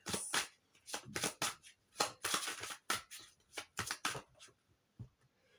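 Tarot cards are shuffled and one is drawn from the deck, heard as close, quiet bursts of riffling and flicking paper in an irregular rhythm, with no talking.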